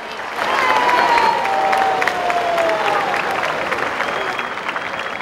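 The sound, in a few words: applause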